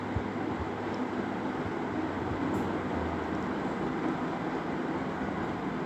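A Samsung top-load washing machine's drain motor runs on spin, giving a steady, even mechanical drone with a low hum throughout, fairly quiet and unbroken.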